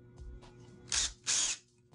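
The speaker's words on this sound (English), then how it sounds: "it's usually required that you pre-drill before you face screw." Power drill pre-drilling a hole into a deck board, two short whirring bursts about a second long each, close and fairly loud, separated by quiet handling.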